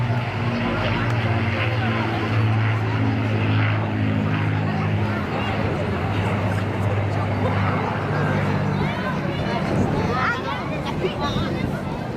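An Avro Lancaster bomber with piston-driven propellers drones past at an air show, a deep throbbing hum under crowd noise and a public-address voice talking throughout.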